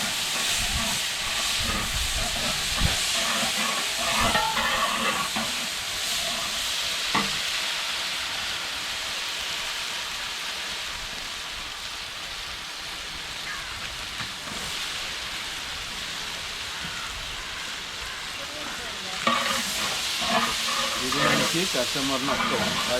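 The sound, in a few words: onions sautéing in hot oil with fennel and chillies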